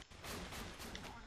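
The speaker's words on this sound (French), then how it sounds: "J'envoie une grenade direct au son." Dense, continuous video-game gunfire and explosion-like booms fill the clip loudly and steadily, with no clear gaps between shots.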